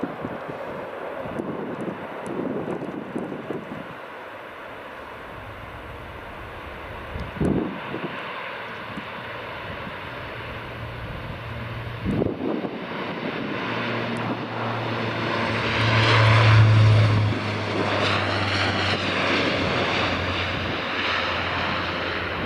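A fixed-wing airplane on the runway at Aberdeen Dyce Airport, a low engine drone that swells louder toward the end with a rising whine, heard from a distance amid wind buffeting on the microphone.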